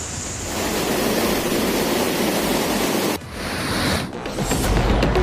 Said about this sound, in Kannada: ಸುಮಾರು ನಲವತ್ತು ಅಡಿಯಿಂದ ಕಪಿಲೆಪ್ಪ ಜಲಪಾತ ಧುಮ್ಮುಕ್ತಾ ಇದ್ದು